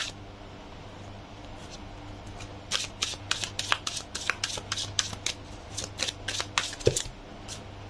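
Thin, sticky tarot cards being pulled from a deck, giving a rapid series of dry, crisp paper snaps and flicks, close and quiet, with no talking.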